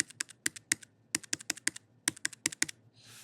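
A computer keyboard being typed on, entering a credit card number: quick bursts of crisp, close key clicks in uneven clusters, with a soft rustle at the very end.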